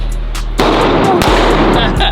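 Gunfire at a shooting range: loud, sharp reports with a heavy, sustained boom and reverberant wash filling most of the moment, a brief gap, then another blast, all close and loud.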